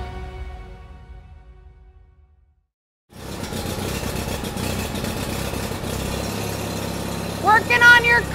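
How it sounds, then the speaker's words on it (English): A car engine running steadily at idle after a sudden start, a continuous mid-level rumble, with speech before it begins and a brief voice near the end. "I can't hear you because the car's on"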